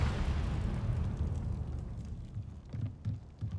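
Incendio fire spell in the Hogwarts Legacy video game, a deep rumbling fiery blast that fades, followed by a few low thumping bursts.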